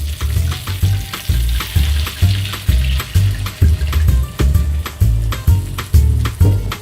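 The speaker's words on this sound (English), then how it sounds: "So we're adding this beautiful red wine that we're also going to drink." Red wine poured into a hot pan of pasta sauce sizzles and hisses loudly up close, with rhythmic scraping and stirring knocks repeating throughout and no one talking.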